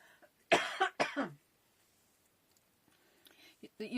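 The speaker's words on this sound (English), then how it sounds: "excuse me, I'm going to cough" Two sharp coughs close to the mic, then quiet with faint shuffling and small sounds toward the end.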